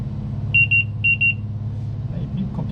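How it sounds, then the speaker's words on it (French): Altitude alert in an ALSIM flight simulator: two quick bursts of four bright, evenly spaced beeps sound over a constant low engine-like hum, followed by faint murmuring. "Ah, il bip quand on passe à l'altitude."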